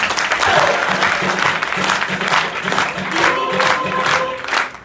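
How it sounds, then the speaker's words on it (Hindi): Loud crowd applause with scattered cheers and whoops, rising and falling slightly; a few voices call out over the clapping. "मैं चाहती हूँ मेरी जो लवली टीम है उनके लिए जोरदार तालियां हो"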